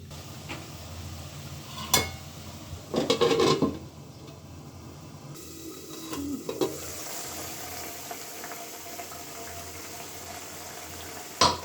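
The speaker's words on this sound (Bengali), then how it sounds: "মাছটাকে একটু কষিয়ে নেব" Fresh farm-pond fish sautéing in a pan over a village kitchen fire, a steady low sizzle broken by a few louder bursts of stirring and scraping, close by with no voices.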